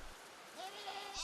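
Goats bleating on a farm in a highland grazing area, a single faint, short bleat with a wavering tone rising out of quiet background hiss near the end.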